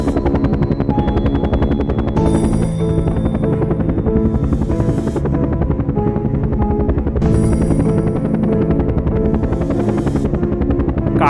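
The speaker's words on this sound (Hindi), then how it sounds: "बाबा ने हेलीकॉप्टर टेक ऑफ किया और समंदर की ओर जाने लगे" A cartoon helicopter's rotor thumps loudly and steadily, its engine whining as it lifts off, a constant close drone throughout.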